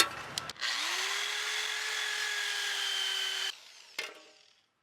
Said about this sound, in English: So this is a good way to kill a drill, what I'm about to do